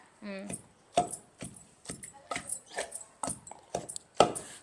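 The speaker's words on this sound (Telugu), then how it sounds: "కచ్చా పచ్చాగా దంచాలి మామిడికాయ" Raw mango pounded for chutney gives a series of sharp, close thuds at an irregular steady pace, about ten blows, with a voice heard briefly at the start.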